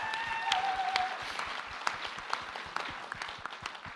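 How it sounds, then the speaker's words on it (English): Audience applause at the White House Tribal Nations Summit, a steady wash of many hands clapping throughout, moderately loud and continuous with no voices over it. "Please give Catherine a round of applause for all of her work."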